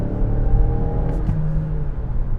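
A 2021 Mazda CX-9 Signature AWD SUV drives along with a steady engine rumble and road whir that holds continuously from start to finish, with no talk.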